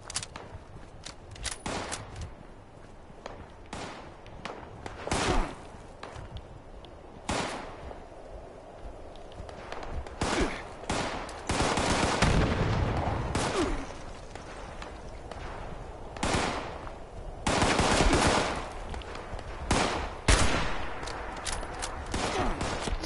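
Gunfire in the Fallout 76 video game: repeated loud bursts and single shots in irregular clusters, some rapid volleys, with game ambience between them and no speech.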